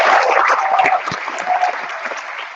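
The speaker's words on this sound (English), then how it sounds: "So that was pretty good cheering" An audience bursts into loud, dense applause with some cheering after a speaker is introduced, clapping strongly at first and gradually tapering off.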